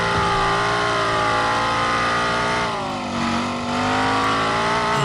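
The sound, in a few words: car engine revving in a mobile car crash video game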